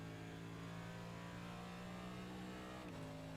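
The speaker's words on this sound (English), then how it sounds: "It sounds like a GT car." NASCAR Next Gen race car in the iRacing simulator holds a steady, buzzing engine drone with strong harmonics, close and constant, then the pitch drops abruptly near the end as revs fall.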